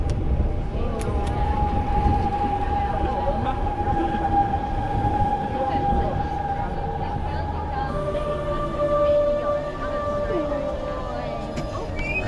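A train pulls into a station bound for Barcelona with a rumbling roar and a long high-pitched screech of brakes, while people talk nearby.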